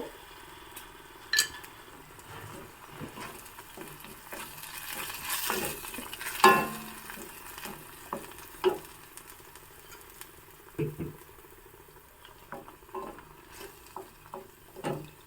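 Capsicum curry stirred in a pan, soft scraping and irregular clinks of a spoon against the metal with a faint sizzle underneath, quiet and unhurried with no talking.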